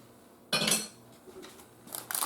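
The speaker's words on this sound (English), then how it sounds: "I'm just going to take all the extra off the spoon because there's a lot of it there." Metal spoon scraped against a mixing bowl to clear off thick brownie batter, a short scrape, a pause, then a quick burst of rapid scraping clinks near the end.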